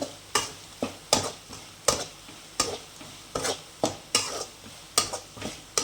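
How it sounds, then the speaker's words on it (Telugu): Masala is stirred briskly with fried onions in a pan for chicken pulao: a spoon scrapes in a regular rhythm, about two sharp strokes a second, over a soft sizzle, close and clear with no talking. "బాగా ఫాస్ట్గా కలిపెట్టాలి అండి మసాలా వాసన పోయే వరకు"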